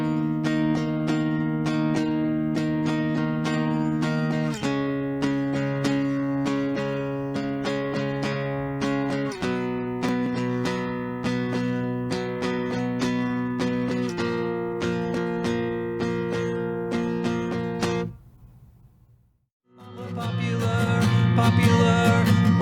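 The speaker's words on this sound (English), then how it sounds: "Play through the chorus 1 more time, using the same strumming pattern and chords." Acoustic guitar strums chords through the chorus of a song, a steady pattern with regular chord changes, close and alone, fading briefly before a final strum.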